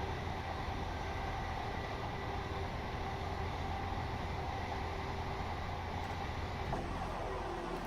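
Class 185 diesel multiple unit with a Cummins engine, running in Train Simulator Classic on a Leeds to Liverpool route, gives a steady, continuous rumble and hum of engine and rolling wheels throughout, without talk.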